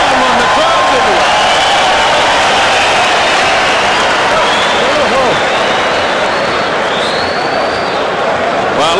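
A boxing arena crowd roars and applauds after the bell ends round one of a women's bout, Christy Martin against Deirdre Gogarty on the Tyson-Bruno 2 card: loud, unbroken cheering and mingled voices that fill the whole stretch.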